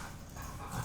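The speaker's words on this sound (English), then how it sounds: "Sorry, dogs want to play." Heavy, close panting from a playful dog named Beatley, short and breathy, filling under a second with a steady huffing rhythm.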